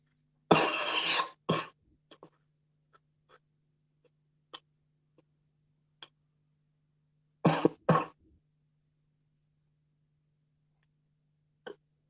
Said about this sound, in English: so much powder makes you cough